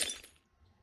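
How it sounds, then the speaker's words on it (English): Glass breaking in a house-building video game, a brief bright shatter that fades quickly into quiet tinkling residue within a second. "Don't you just love the sound of breaking glass?"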